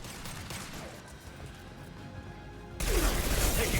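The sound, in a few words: gunfire in the video game Mass Effect 2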